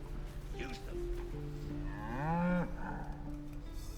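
A strange ox moos in Baldur's Gate 3: one drawn-out, wavering low moo that swells and then fades, heard over a game music drone with soft background sounds.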